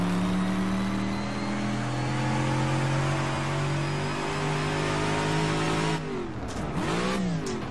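A racing AC 427 Shelby Cobra engine in rFactor 2 drones at high revs, pitch climbing steadily, then dips and wavers as it shifts and revs again.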